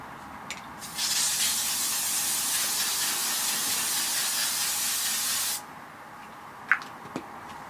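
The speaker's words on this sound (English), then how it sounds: "This is the L'Oreal Infallible 3 Second Setting Mist. It's like a hairspray for your face" L'Oreal Infallible 3 Second Setting Mist facial spray gives one long, steady, close hiss lasting several seconds, followed by a couple of small handling clicks in an otherwise quiet room.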